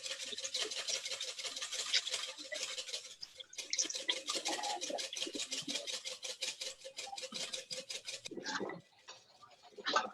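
Egg whites being whisked by hand toward soft peaks for chiles rellenos: a rapid, even scratchy ticking of the whisk against the bowl, close and steady for several seconds before slowing and stopping.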